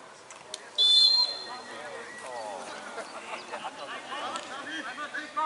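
A referee blows one short, shrill whistle blast near the start during an amateur football match between OSC Bremerhaven and FC Alsterbrüder, while players and spectators shout and talk around it.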